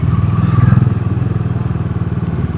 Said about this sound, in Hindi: इसका तो एग्जॉस्ट नोट काफ़ी प्यारा है